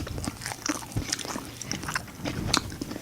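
Close, crisp biting and crunching into a sweet Donas pastry, several sharp bites and chews scattered over a few seconds with no talk.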